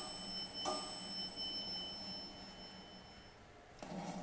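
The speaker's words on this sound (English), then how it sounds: "I like that bell." Arrival bell of a custom Dover traction elevator in a shopping center, a single clear ring that sustains and slowly fades over a quiet lobby hum.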